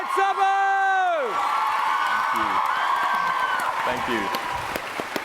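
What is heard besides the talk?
audience cheering and applause for panel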